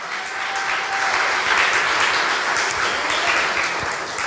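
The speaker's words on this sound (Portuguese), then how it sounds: "Aplauda fortemente a Jesus." A church congregation applauds loudly for Jesus, a dense, steady wash of many hands clapping that fills the room and holds evenly for several seconds.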